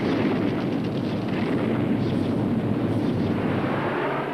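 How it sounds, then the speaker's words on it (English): A continuous, heavy roaring rumble from a bomber being destroyed by rockets, loud and sustained throughout with no pauses, like a dense blast-and-debris roar recorded at close range. "When the rockets were fired, the bomber was destroyed."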